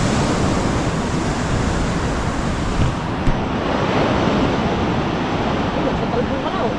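Ocean surf breaking continuously at close range, a steady loud roar of waves mixed with heavy wind buffeting the microphone, with no clear pauses between swells.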